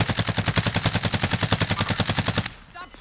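Rapid sniper-rifle fire in the video game Warzone, a fast steady string of about twenty loud, close shots that stops abruptly, leaving a quieter stretch with faint background noise.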